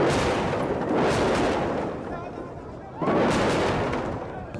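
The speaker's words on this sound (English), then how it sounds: "The constant heavy bombing by U.S.-led forces continued into the morning." Heavy bombing by U.S.-led forces near Kifri, two long rolling booming blasts, the second starting abruptly after a brief lull, loud and rumbling with sustained decay.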